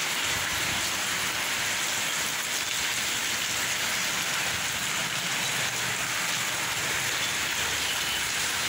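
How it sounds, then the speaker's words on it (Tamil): Steady, dense rain pattering on surfaces with a soft airy rush of light wind underneath, continuous and even throughout, no voices. "லைட்டாக ஒரு காற்று அடிக்குது பாருங்கள், இந்த மழையோடு சேர்ந்து அந்த காற்றும்"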